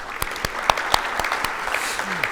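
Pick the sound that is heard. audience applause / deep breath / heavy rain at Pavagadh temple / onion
audience applause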